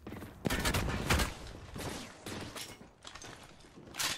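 Dense, rapid gunfire from Apex Legends crackles in loud overlapping bursts, close by, with brief lulls between volleys across a few seconds.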